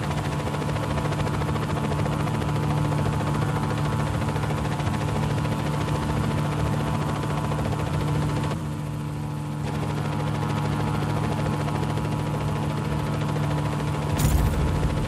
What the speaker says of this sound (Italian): Elicottero in arrivo nella zona.